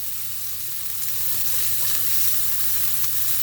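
Small pieces of pork filet mignon sear in a hot pan. A steady, fine sizzle and crackle carries on without a break, and no one speaks over it.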